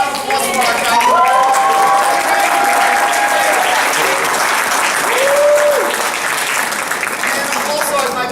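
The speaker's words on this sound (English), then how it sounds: "Give a round of applause for our guy." A live audience bursts into a sustained round of applause and cheering, dense clapping filling the whole stretch at steady loudness, with a few whistles or shouts rising above it.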